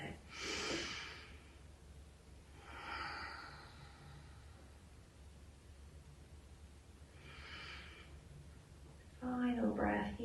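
Deep breathing during a seated chair yoga session, three long, audible exhales spaced a few seconds apart, close and breathy, followed by a brief spoken line at the end.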